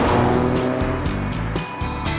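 All-wheel-drive car accelerating hard in sport mode with the throttle floored, a loud close engine roar rising in pitch in quick steps as gears change.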